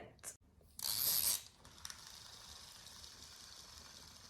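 A toy bunny with a mechanical spinning tail gives a short, loud whirring ratchet burst lasting about half a second, followed by a fainter rattle against quiet background noise.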